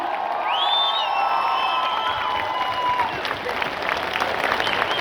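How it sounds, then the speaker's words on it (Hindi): An audience claps and cheers loudly and steadily throughout, with whoops and raised voices rising over dense, continuous applause in a crowded hall. "जबरदस्त एक्साइटमेंट से तालियां बजा सकते हैं हम लोग?"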